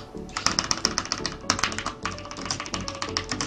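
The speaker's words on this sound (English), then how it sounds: "I can hear the keyboard like fighting." Computer keyboard keys clatter rapidly and close up during a 3v3 gaming session, a dense stream of quick taps with brief pauses.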